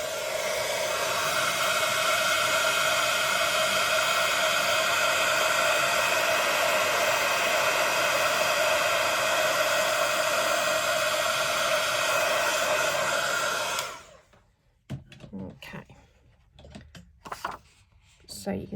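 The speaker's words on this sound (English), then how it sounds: "What I'm going to do is heat emboss this" Heat embossing tool blowing hot air onto embossing powder on paper, a continuous loud, steady fan-driven whoosh and hum lasting about fourteen seconds close by, then cutting off into quiet with small handling clicks.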